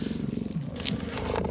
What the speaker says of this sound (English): Gonna purr for us.